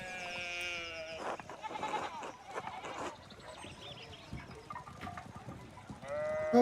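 Sheep bleat in the game Pentiment. A drawn-out bleat opens, another bleat rises at the very end, and muffled talk and shuffling noises fill the space between them.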